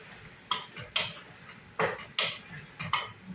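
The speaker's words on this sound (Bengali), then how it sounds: "ভালো করে একটু নাড়াচাড়া করে নেবেন" Turmeric being stirred into gourd, carrot and eggplant in a pan, a utensil scraping and clinking against the metal in about six separate strokes, close by with no talk.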